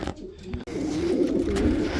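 Racing pigeons coo steadily in a low, throaty burble, close by, continuing for a couple of seconds without any talking.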